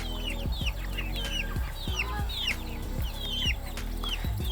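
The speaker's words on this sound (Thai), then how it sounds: "นี่ครับไก่เบตง1เดือนครึ่งนะครับ" Several Betong chickens, about six weeks old, cluck and chirp close by on a farm in Doi Saket, Chiang Mai, with repeated short clucks and higher peeping calls over a steady low hum.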